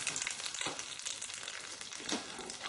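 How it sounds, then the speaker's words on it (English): Scrambled eggs cooking in a pan while being stirred constantly, heard as a soft, steady frying sizzle with faint scraping of the utensil, fairly quiet and close, no talking. "Now the thing about scrambled egg is you've got to keep stirring it."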